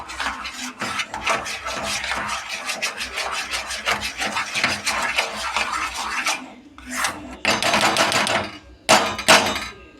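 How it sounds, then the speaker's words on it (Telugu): Milk stirred into a mixture in a pot, a rapid run of close scraping and rubbing strokes against the vessel, pausing briefly and then resuming in short bursts. "సో పాలు పోసినాక బాగా కలుపుకోవాలి."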